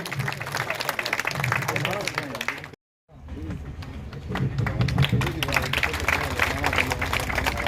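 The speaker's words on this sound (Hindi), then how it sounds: "तालियां आती रहे अरुण जी के लिए।" Crowd applause and clapping at a BJP ward office inauguration in Jaisalmer, steady and dense with voices mixed in, broken by a brief dropout near the middle before the clapping resumes.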